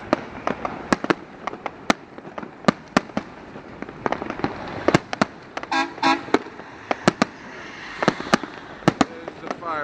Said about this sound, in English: There's the fireworks there.